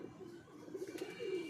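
Soft, low cooing of a Salara Teddy pigeon, faint and close, with a gentle rising-and-falling murmur over quiet background hiss.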